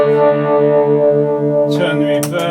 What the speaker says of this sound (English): vibrato, I can turn that on.